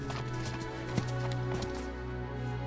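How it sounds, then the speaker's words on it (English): Horse hooves clop in a rhythmic series in Dynasty Warriors 8, set against a steady low hum of game ambience, with one sharper hoof strike standing out. "Someone! A horse! At once!"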